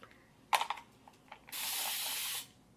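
A hair product spray bottle firing in a curly hair routine: a few small plastic clicks and handling noises, then one continuous close, bright hiss lasting about a second before it cuts off.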